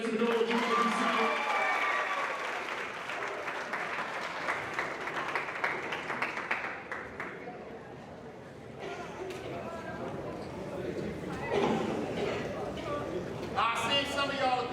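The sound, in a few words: audience clapping and cheering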